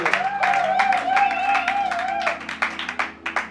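A church congregation claps and cheers. A voice sings or shouts above the crowd, then rhythmic clapping stands out near the end.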